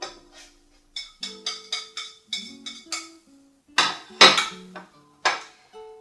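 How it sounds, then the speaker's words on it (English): Butter being set into a bowl of sugar with a series of sharp clinks and knocks of utensil against the bowl, spaced irregularly and close, with no talking. "now we're going to place the butter into the bowl"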